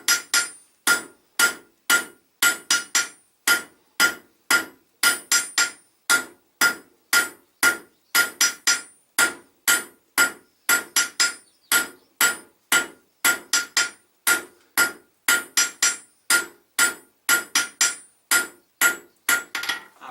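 An Acadian blacksmith hammers pieces of steel into points: a long, steady run of bright metallic hammer strikes, close and loud, in an even rhythm of roughly two blows per second without pause.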